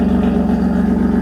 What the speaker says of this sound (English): it makes supercharger noises!